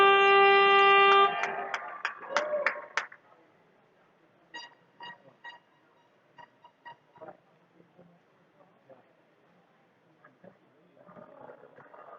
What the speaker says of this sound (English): Right on the buzzer there